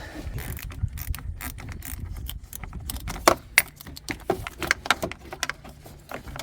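Wrench turning the nut on the negative battery cable of a Chevy Silverado, a run of close metallic clicks and ratcheting jingles with sharper clacks in the second half, alone without talk.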